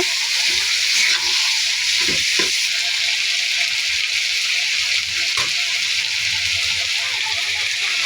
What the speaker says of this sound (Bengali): ভালো করে তেল ওঠা পর্যন্ত এটাকে আমি একটু কষিয়ে নেব।